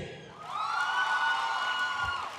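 A college audience of Surya fans erupting in loud, high-pitched cheering and whooping with clapping mixed in, swelling quickly and holding for about two seconds.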